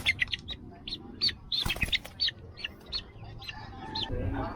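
Half labuyo, half Texas chickens clucking close by, a series of short, bright clucks and chirps with brief gaps, over a low rustling background.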